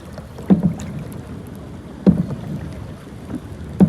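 Kayak paddle strokes on the sea off Padubidri beach, three distinct splashing pulls spaced about a second and a half apart, close to the microphone with steady wind noise rushing underneath.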